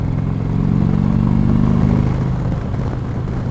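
An Indian Chieftain motorcycle with its stock exhaust runs close by, a deep throbbing V-twin rumble that holds steady and shifts as the rider changes up a gear, with no talking.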